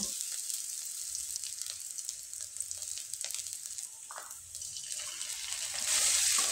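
Spices sizzle in hot oil in a pan as potatoes are prepared for a crispy snack, a constant soft frying hiss with light stirring scrapes and clinks, swelling louder toward the end.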